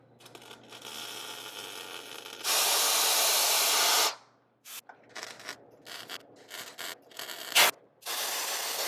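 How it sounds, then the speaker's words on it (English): Compressed air hisses over a freshly welded tack during front steering work on a 1937 Lincoln Zephyr: a steady blast of about a second and a half, then a run of short, choppy puffs of varying strength, close and loud. "I'm going to do a tack and then blow it with the air to just cool it."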